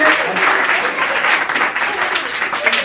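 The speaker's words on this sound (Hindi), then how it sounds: "ताली बजाएंगे, ताली बजाएंगे।" A church congregation claps hands together, steady dense applause filling the room at close range, with voices mixed in underneath.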